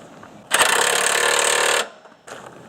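An impact wrench tightening suspension bolts on a car's lower control arm (Toyota MR2, 2004 Scion xA/xB parts): one loud, close buzzing hammer burst of just over a second, then a brief second burst starting.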